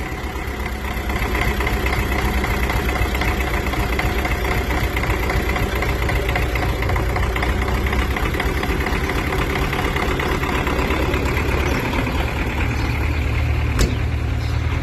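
A vehicle engine starts and settles into a steady, quiet idle, a continuous close, even rumble with a faint knocking texture throughout.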